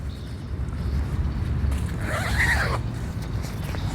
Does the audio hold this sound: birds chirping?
no